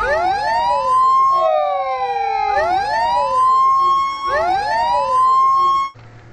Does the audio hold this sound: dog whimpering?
no